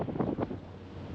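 Strong wind buffeting a microphone aboard a boat at sea off a cape where gusts raise the water, a loud rushing roar with low rumbling bursts easing into steady blustery noise.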